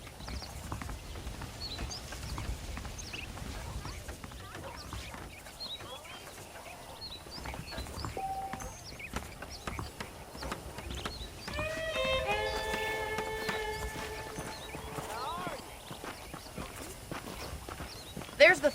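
Saddled horses clip-clop along in Red Dead Redemption, a steady run of hoofbeats under ambient wind and birds, with a whinny and bright musical tones rising midway and a voice talking over parts.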